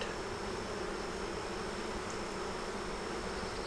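Honeybees in a hive box buzzing loudly and steadily, a dense continuous drone close up with no pauses.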